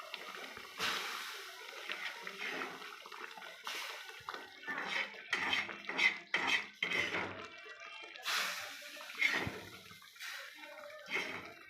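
A spoon stirs semolina into boiling water in a pot, scraping and clinking against the metal in irregular bursts, close and fairly quiet.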